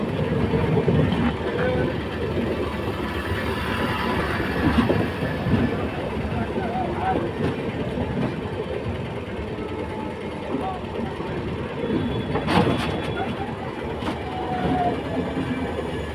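Steady rumble and rattling clatter of the Padatik Express in motion, heard from inside an AC three-tier coach, continuous and fairly loud throughout with faint voices in the background.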